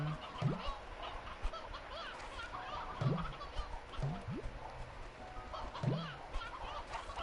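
Briar hens in the video game Slime Rancher 2 let out faint, short honking clucks every second or two over a soft, busy in-game ambience.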